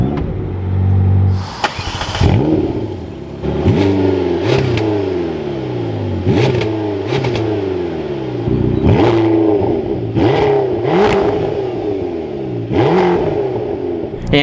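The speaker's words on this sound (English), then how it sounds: "it's time to listen to the McLaren GT" A McLaren GT sports car fires up with a sharp start, then revs repeatedly in quick blips that rise and fall, loud and close, before settling toward idle between bursts.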